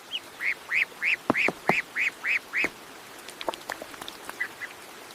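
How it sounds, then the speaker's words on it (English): Cartoon baby ducks quacking, a quick series of about eight evenly spaced, bright quacks up close, then a few softer, scattered quacks and small knocks trailing off. "Baby ducks! They're so cute."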